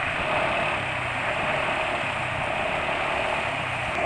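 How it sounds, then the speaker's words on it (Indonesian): A motorcycle engine running rough on Motul GP Ultimate 10W40 oil after 2 km of use, giving a steady, even mechanical hum with a hissy texture, heard close up and alone without talk. "kondisi pemakaian 2 km sudah kasar suara mesin ya"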